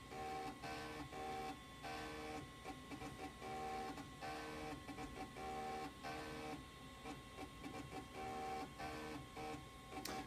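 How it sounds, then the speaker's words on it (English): Apple Lisa floppy disk drive grinding steadily through a heavily loaded diskette before ejecting it, a continuous mechanical whir broken by rhythmic, repeating clicks and chatter, close and fairly loud with no talking. "This diskette has a lot of stuff on it, so it takes a little bit longer to grind away"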